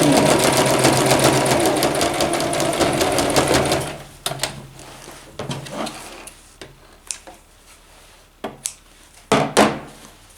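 A sewing machine stitches a vest lining at a half-centimetre seam allowance with a fast, steady mechanical rattle for about four seconds, then stops, followed by scattered knocks and handling sounds of fabric and the machine.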